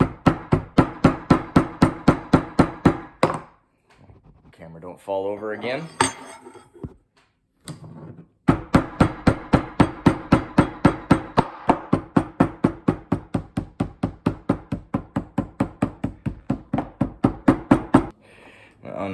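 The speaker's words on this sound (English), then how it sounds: "and hammer on it this way" Hammering on a leather bareback riding glove being shaped where the rigging presses, heard as loud, close, rapid metallic knocks in steady runs, with a pause midway filled by a brief spoken remark before the regular strikes resume.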